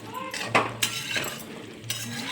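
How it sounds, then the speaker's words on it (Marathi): Raw banana slices are stirred in a pan over low heat, with a few sharp metal spatula clinks and scrapes against the pan and a faint sizzle, while a voice talks. "हे आपल्याला काप हलवतच राहायचं आहे आपल्याला कंटिन्यू"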